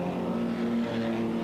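Touring cars rumble through on the grid at the 1994 Telecom Classic Motorfest, a steady, fairly loud engine drone holding a low tone without a break.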